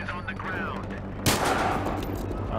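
Battlefield Hardline gunfire breaks out as a sudden loud burst of shots partway through, followed by a dense, continuing spray of game combat noise over a steady low hum.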